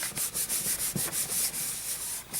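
A folded paper card being rubbed down by hand, giving a quick series of about a dozen rhythmic dry swishing strokes, close and alone.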